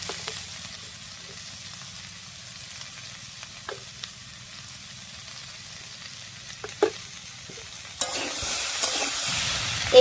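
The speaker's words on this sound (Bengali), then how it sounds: "এবারে এই কষানো মশলার সঙ্গে আলু আর কাঁঠালটাও খুব ভালো করে কষিয়ে নেব।" Potato and jackfruit fry in a pan with cooked-down spice masala for a Bengali jackfruit curry. A soft, steady sizzle carries a few faint stirring taps and swells louder and brighter in the last couple of seconds.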